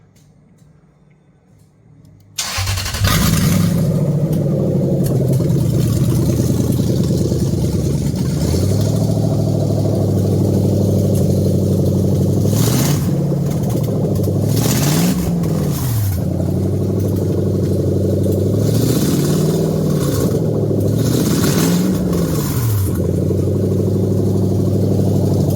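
A freshly wired 3UZ engine cranks and catches after a brief quiet, then settles into a steady, close idle broken by several short throttle blips that rise and fall in pitch.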